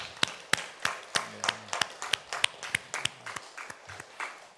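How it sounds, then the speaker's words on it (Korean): Steady, rhythmic clapping, a few hands beating in time at a moderate pace during a church prayer service, with faint voices or music underneath. "우리 하나님 앞에 영광의 박수 올려드리겠습니다."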